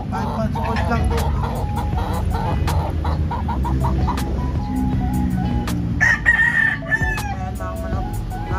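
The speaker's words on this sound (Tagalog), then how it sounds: "Ayan mga manok." Gamefowl roosters, including Kelso and Sweater Gilmore birds, crow at a small breeding farm, several long calls overlapping against a constant low rumble, with scattered clucks and someone speaking briefly.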